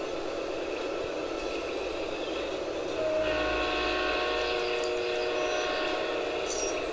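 A steam-era locomotive in the railway game Railroad Tycoon 3 rumbles along, then a loud, sustained whistle sounds and holds steadily over the running train noise.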